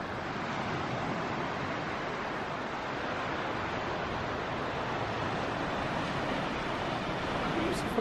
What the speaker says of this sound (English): Ah, that's the sea.